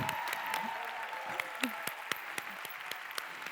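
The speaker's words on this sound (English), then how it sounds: "let's bring up the lights and give you a big round of applause to your 5 speakers. Mark Pollock." Indoor audience applause greets five speakers at a disability inclusion event, a fairly faint, scattered clapping with a few sharper individual claps standing out, while a voice talks over it.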